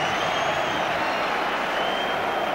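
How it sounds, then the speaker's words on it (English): Home crowd at a 1990 QPR v Liverpool FA Cup quarter-final football match rising in a sustained, dense ovation of applause and cheering, steady and loud throughout with no distinct voices standing out. "He gets a big ovation from the home crowd."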